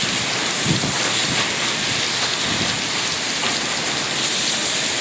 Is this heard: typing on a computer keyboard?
no